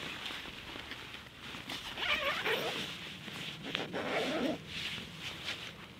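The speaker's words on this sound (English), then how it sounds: "The zipper is very smooth." Zipper on a Russian Ratnik military tunnel-tent bivy being drawn smoothly along its track, a close, continuous rasping pull with a few brief pauses and faint handling rustle, no talk.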